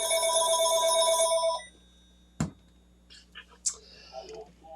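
A telephone rings loudly with a steady electronic trill for just over a second, then stops, leaving a quiet room with a few faint clicks and soft rustles.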